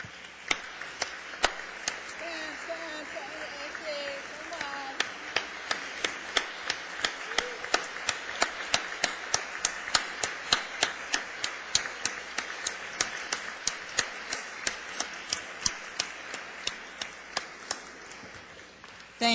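Audience at a credit union annual meeting applauding the staff, with sharp, evenly spaced claps close by standing out over a softer wash of clapping, and a few voices murmuring underneath.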